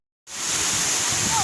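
Waterfall at Baha, a steady, loud rushing roar of falling water that starts abruptly after a brief silence and holds constant throughout.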